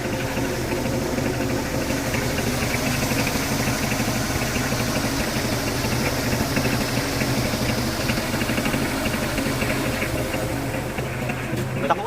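An engine running on homemade biodiesel made from used cooking oil chugs steadily at a constant idle, a continuous rough mechanical rumble with a faint knock throughout and no pauses.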